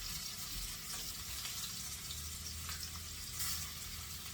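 Lamb browns in a pan with peas at moderate heat, a soft, steady sizzle and crackle close by, faint and continuous with no voices.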